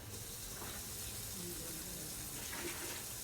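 Quiet, steady hiss of tap water running into a basin while soap bubbles are rinsed off during a hand and nail care routine, with faint murmured speech underneath.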